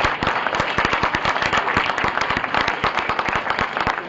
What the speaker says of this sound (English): Everyone, please give a round of applause to our honoree, Captain Walter Donald.